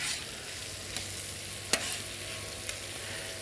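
Shrimp sizzle in a warming pan with a continuous soft hiss and a couple of sharp utensil taps, nearby and steady.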